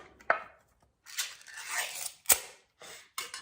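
Spam being chopped for a prison rice bowl, a few sharp knife strikes followed by bursts of scraping and cutting, fairly close and clear with short pauses between.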